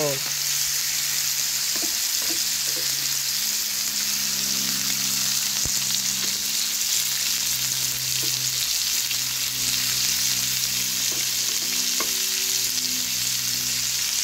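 Pork belly fries in a pan while someone cooks behind a house, producing a dense, loud, unbroken sizzle with occasional stirring clinks and faint background hum and bird-like tones.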